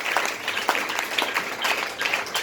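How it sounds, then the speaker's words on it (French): A church congregation applauding for the Lord, a dense burst of clapping from many hands with a rhythmic pulse, sustained and fairly close. "Alors on acclame pour le Seigneur."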